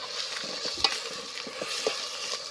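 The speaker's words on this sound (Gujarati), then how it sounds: "અમારે હવે નાખી દો પેસ્ટ. એનો પેસ્ટ છે, આદુ લસણ હો ભાઈ." Ginger garlic paste sizzling in a pan, a steady soft frying hiss with a few light stirring clicks, no talk.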